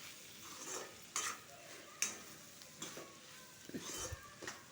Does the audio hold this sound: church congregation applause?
no